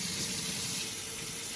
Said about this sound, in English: we're going to fill it up with hot water